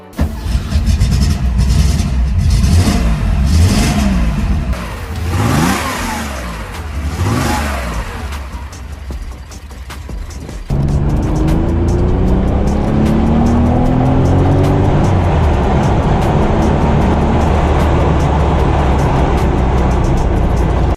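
A 1972 Porsche 911 S Targa with a 2.4-liter flat-six, driven in Porsche Unleashed, revs through rising and falling engine sweeps, then settles into a steady loud drone at speed with no talking.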